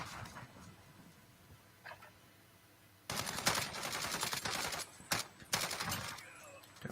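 Rapid gunfire from a gun in an online shooter video game, quiet at first and then bursting into loud, fast volleys with brief pauses between strings of shots.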